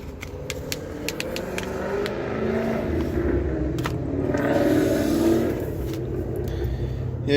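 A Ram 3500 Tradesman crew cab long-box pickup, set up for hot-shot hauling, rolls and idles while being parked, a steady mid-level engine rumble that swells briefly near the end.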